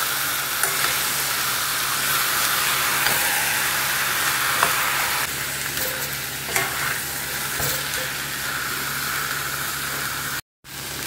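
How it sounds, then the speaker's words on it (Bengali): Large chicken pieces seasoned with salt are stirred and sautéed in a pan, a steady loud sizzle running throughout with occasional scrapes and clinks of the spoon, and no talking. "একটু সাবধানে কষাচ্ছি।"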